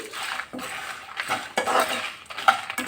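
A spoon scrapes and clinks against a pan while stirring roasted sesame seeds into bitter gourd, in several short, close strokes about half a second apart.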